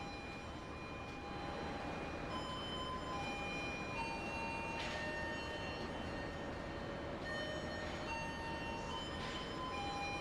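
A passenger train in the Trainz simulator pulls out of Pasar Senen station with a faint, steady rolling rumble and a few brief higher tonal squeals and whistles over it, and no voices.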